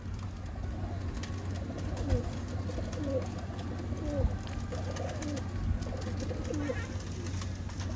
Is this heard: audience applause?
no